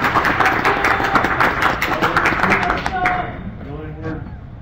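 An audience at a convention applauds to welcome a speaker, dense sustained clapping that thins out toward the end, with voices mixed in underneath.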